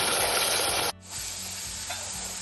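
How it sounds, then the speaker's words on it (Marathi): Green masala of green chillies sautéing in a pan for green pulao: a loud dense sizzle that drops suddenly, then carries on as a softer, steady frying hiss. "हिरवा मसाला छान परतायला लागला"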